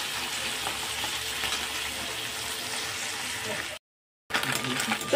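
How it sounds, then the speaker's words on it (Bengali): Small fish deep-frying in oil until crispy, a steady dense sizzle and bubbling that runs continuously, drops out briefly, then resumes close and loud. "মাছগুলো আমি জাস্ট ভালো করে মুচমুচে করে ভেজে নেবো"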